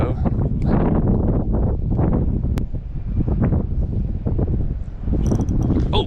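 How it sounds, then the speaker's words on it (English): Wind blows at a fishing spot, a steady loud buffeting rumble across the microphone with rustling, continuous throughout. "It's windy though."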